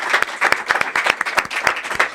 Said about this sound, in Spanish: hoy un aplauso para todos quienes están con nosotros aquí acompañándonos esta noche